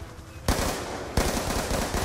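Automatic MTAR rifle fire in the Black Ops 2 campaign's Strike Force mission, with two loud sustained bursts of rapid shots close up.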